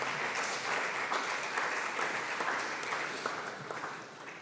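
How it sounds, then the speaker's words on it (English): An audience claps steadily in a church talk setting, a dense even patter of many hands that holds for several seconds and thins slightly at the end. "Is that applause?"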